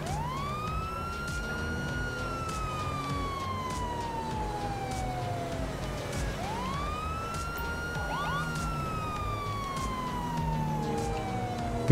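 A police car siren from the GTA video game with the LSPDFR mod wails steadily in long rising and falling sweeps, loud and continuous under engine and road noise, with no talk.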